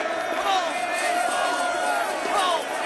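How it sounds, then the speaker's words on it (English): Prison inmates in a film cheer and holler at a new prisoner's arrival, a dense crowd of shouting voices sustained throughout with a few louder whoops rising above. "Do they all stand and cheer every time a new prisoner rolls in?"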